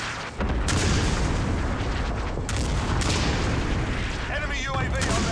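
Airstrike explosions in Call of Duty: Warzone, loud, dense booming blasts rolling into one another in a sustained heavy rumble, with a voice briefly under the noise.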